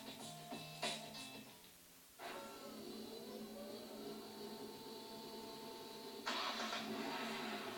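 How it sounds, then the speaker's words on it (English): A car engine cranks and catches, then settles into a steady idle hum, with a brief revving surge near the end. "This is the sound of a car engine."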